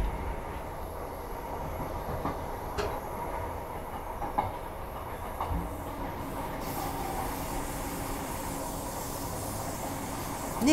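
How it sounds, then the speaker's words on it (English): Transperth A-Train suburban electric train running between stations in the Perth city area, heard from inside as a steady rumbling roll with hiss and occasional clicks from the wheels on the track. "This train runs from Perth to Midland, stopping at all stations."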